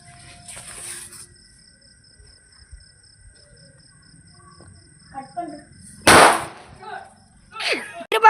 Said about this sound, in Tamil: தெரியுதா கைஸ் பிஜிலி வெடின்னு?